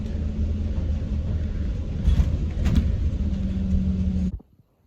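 Steady low rumble of a bus engine heard from inside while riding, a continuous droning hum with brief rattles midway, cutting off abruptly near the end.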